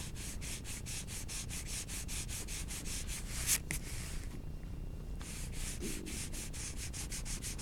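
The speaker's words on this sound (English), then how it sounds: "just kind of hitting this with the eraser for the highlight" An eraser rubbing back and forth over a graphite pencil drawing of a medical needle to lift highlights, a soft steady scrubbing with quick rhythmic strokes and a brief pause, close and quiet.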